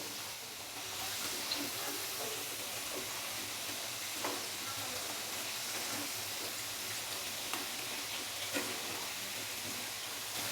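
Potato wedges fry in oil with a steady, fairly soft hiss and bubbling, broken by occasional faint pops and clicks, continuous throughout.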